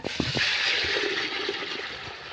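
Water pours and splashes steadily into a container for soaking, a continuous rushing gush with a few soft knocks at the start, fairly close and alone.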